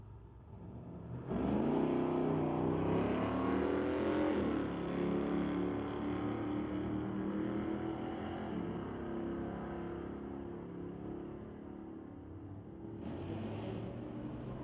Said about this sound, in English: Brings up Jesse Kutzer in the 1970 Dart to race Rex Jessamine in the 1980 K5 Blazer.